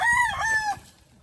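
A rooster on an island farm lets out one loud, close crow with a rising and falling call that cuts off sharply after under a second.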